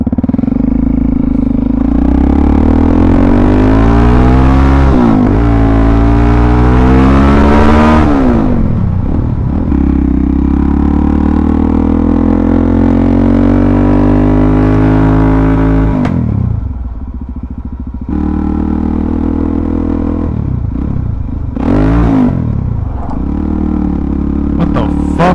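Suzuki DRZ400SM motorcycle engine with a fault, loud and close, revving up and down in long swells with rough clattering, dropping out briefly before picking up again.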